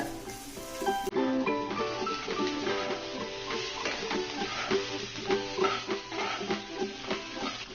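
Fish masala frying in a pan as chopped coriander goes in, a steady sizzle under repeated scraping and clinking of a spoon stirring, with a low background hum.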